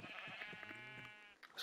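A Minecraft sheep gives one wavering, nasal bleat lasting over a second, fairly close but at modest volume, ending with a short rustle.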